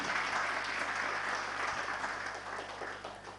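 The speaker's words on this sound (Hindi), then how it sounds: "एक बार ताली बजाओ अपने लिए।" An audience at a religious sermon claps together in a brief, dense burst of applause that slowly tapers off over a few seconds.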